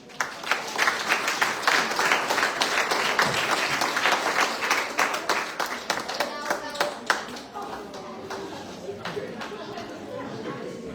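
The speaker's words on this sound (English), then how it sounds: "Let's give him another round of applause" Audience applause at the Hermitage Government School 2025 graduation: dense, loud clapping from a crowd that gradually thins into scattered claps, with some background chatter.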